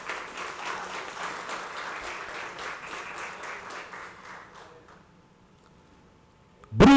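An audience at a formal ceremonial session in a chamber applauds a club president being honored; steady, fairly close clapping lasts about five seconds, trails off into near silence, then a voice starts abruptly at the end.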